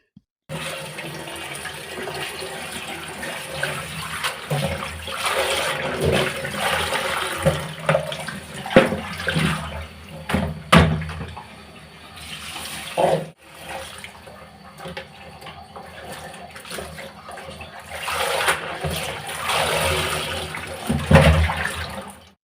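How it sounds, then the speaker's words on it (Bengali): Taro stems are rinsed by hand under a running tap, a steady rush of water broken by splashes and handling knocks, close and fairly loud, with no talk. "আগে লতাগুলো আমি ধুয়ে নেই"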